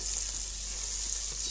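Ginger and onion sizzle and fry steadily in oil in a pan for chicken kadai, a close, continuous crackle with no talking.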